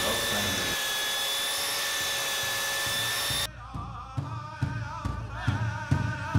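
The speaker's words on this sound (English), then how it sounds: "Thing to do now is get as much of that middle part sanded down outside. That belt sander," Belt sander grinding down the middle of a wooden drum outdoors, a steady loud whine that runs for about three seconds and then cuts off, followed by softer knocks and handling noises nearby.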